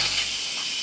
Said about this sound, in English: We're just gonna turn it to venting, let the steam come out of it.